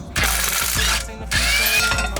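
A ratchet wrench works loose the 16 mm brake caliper bolts on a BMW 335i, giving two bursts of close, rapid mechanical clicking separated by a short pause.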